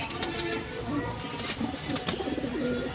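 Lal Patti pigeons cooing in a loft, a continuous low murmur of overlapping coos with a few brief higher chirps, near and steady throughout.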